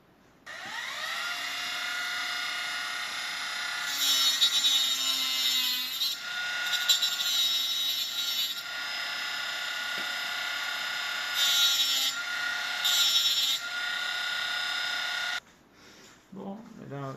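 Power tool cutting a part for a mainsail and jib foot sail-shape adjustment system: a loud, steady high-pitched whine running about fifteen seconds with brief surges as the blade bites, stopping abruptly, then faint handling noise.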